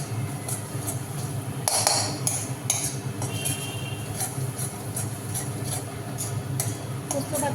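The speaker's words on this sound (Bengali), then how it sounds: "এখন পোস্ত বাটাটাকে ভালো করে ভেজে নিচ্ছি" Poppy seed paste frying in a pan after sliced onions: a metal spatula scrapes and clinks against the pan in irregular taps, moderately close, over a soft background hum with faint voices.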